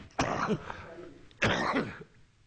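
A man coughs twice, close and loud, each a harsh burst followed by a short raspy tail, with a pause of about a second between them and no words spoken.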